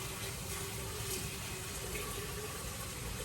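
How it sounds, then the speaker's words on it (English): Tap water running steadily into a pasta pot on a home stove, a continuous, even rushing fill with no pauses or talk. "I'm now going to add water"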